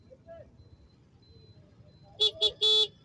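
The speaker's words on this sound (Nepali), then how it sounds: "मैले हर्न बजाएँ तर हर्नको कुनै असर छैन।" Three quick honks of a car horn in a traffic jam at Bangemuda, Asan, Kathmandu, two short then one longer, loud and close, after a few seconds of quiet.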